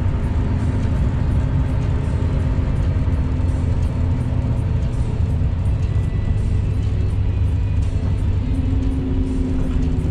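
Night traffic on the BR101 highway in Santa Catarina, mostly cars with a few trucks, a constant low rumble of engines and tyres rolling past, steady throughout with no talk.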